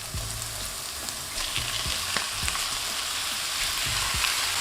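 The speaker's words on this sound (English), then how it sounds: "Now at this point of time, we're going to add in our lamb mince." Lamb mince sizzles steadily in a hot pan for a shepherd's pie, a continuous close frying hiss with occasional soft spoon clicks and stirring.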